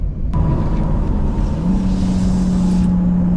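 BMW 8 Series engine running steadily while driving, with a low engine tone that steps up in pitch as the car shifts gear midway, under continuous road and cabin rumble.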